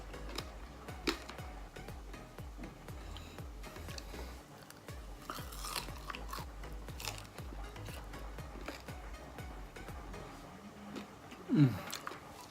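Crispy pork belly being bitten and chewed up close, a quiet run of repeated crunchy chomps in steady rhythm, with a sharper louder crunch near the end.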